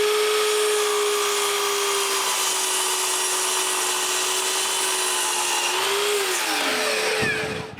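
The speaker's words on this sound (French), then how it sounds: "je coupe mes blocs à 45 degrés" Power saw cutting wooden blocks at 45 degrees, a loud steady whining cut lasting several seconds with a brief pitch change near the end before stopping.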